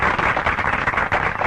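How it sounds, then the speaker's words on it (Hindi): A crowd breaks into loud, close applause, a dense flutter of many hands clapping steadily throughout with no speech over it. "तालियां!"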